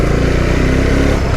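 A 2021 Bajaj Dominar 400 BS6 motorcycle engine runs steadily nearby, a continuous loud, even drone with a fast pulsing beat, alone without talk.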